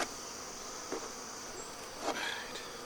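Honey bees buzz steadily around an open hive during beekeeping work, a continuous faint drone with a few brief louder passes close by.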